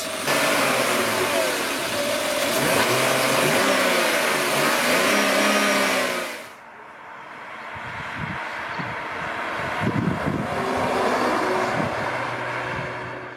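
A 1997 BMW 728i E38 with a 2.8-litre engine and manual gearbox runs with a steady engine drone, which drops off sharply partway through, leaving quieter rumbles and faint knocks nearby.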